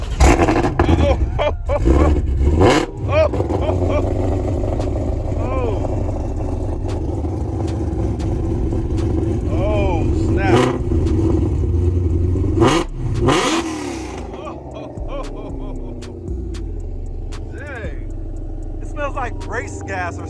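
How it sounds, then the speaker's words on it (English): A heavily modified Shelby GT500 making over 1,000 horsepower revs at the Toy Barn, a loud, continuous engine roar with surging rev swells and a rumbling low end, with excited voices talking over it. "he's gonna fire it up for us so we can hear this modified GT500"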